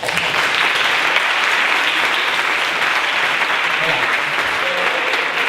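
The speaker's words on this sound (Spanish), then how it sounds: "qué aplauso, ¿no?" Steady, dense applause from a large crowd, loud and sustained throughout without a break.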